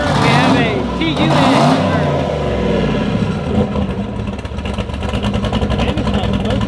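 A car engine revs on a dyno, loud and rough with rising and falling throttle, while people talk and shout over it near the start.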